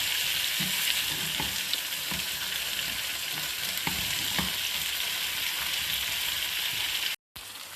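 Tomatoes sautéing in a pan for chicken karahi, a loud continuous sizzle and crackle with repeated stirring scrapes, ending in a brief cut to silence before the frying resumes.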